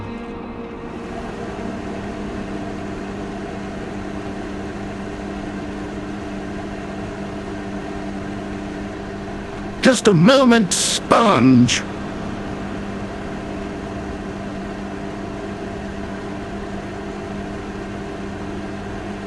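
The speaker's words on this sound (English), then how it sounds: "Microwave ready." A running microwave oven gives a steady, even hum throughout, and a person speaks briefly over it partway through.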